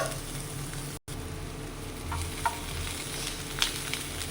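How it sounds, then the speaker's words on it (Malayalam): Chopped onion sizzles in hot coconut oil in a pan, a soft, steady frying hiss with a few faint stirring clicks, heard alone. "അത് ചൂടായി വരുമ്പോൾ നമുക്ക് അതിലേക്ക് ഒരു ചെറിയ സവാള ചെറുതാക്കി അരിഞ്ഞത് ഇട്ട് കൊടുക്കുക"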